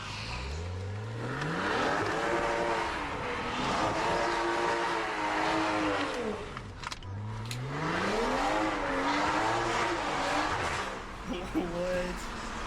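A BMW 540i loses grip on a rain-soaked road, its engine note rising and falling through two long sweeping revs while tires hiss on the wet surface, with people talking over it throughout.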